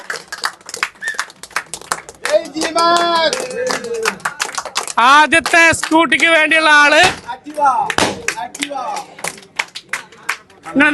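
An audience claps in scattered bursts at a lucky draw event for a scooter prize at Tirur Gulf Market, mostly under someone speaking loudly into a microphone.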